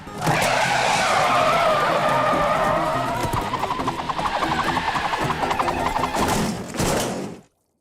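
A loud, sustained screech of cartoon car brakes skidding with a revving engine underneath, ending in a short final burst before cutting to silence.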